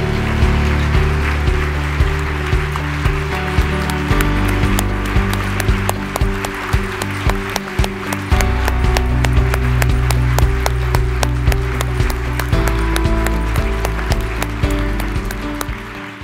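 Sustained, loud applause from a ceremony audience honoring nurses as living legends, dense steady clapping throughout with no pauses.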